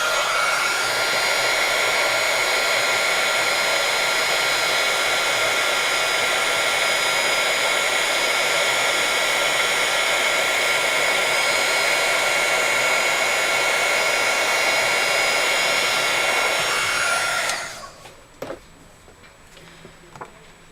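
A heat embossing tool melts embossing powder on a handmade Christmas card, giving a loud, steady fan-like whir up close for about seventeen seconds before it switches off, followed by a few light taps.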